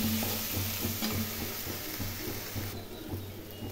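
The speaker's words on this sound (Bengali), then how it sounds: "ভালো করে নেড়ে নেড়ে মশলা কষিয়ে নেব।" Spices frying in a pan for a potol chingri dish, stirred repeatedly with rhythmic scraping strokes over a continuous hiss of oil, close and steady, with a low hum underneath.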